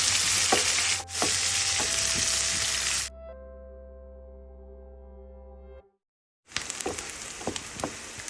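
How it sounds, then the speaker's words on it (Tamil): Onions sautéing in a pan for a carrot stir fry, a steady close sizzle and frying crackle with occasional stirring scrapes, broken by a stretch of low hum and a brief silence before the sizzling resumes. "வெங்காயத்தை சேர்த்து நம்ம வதக்கலாம்."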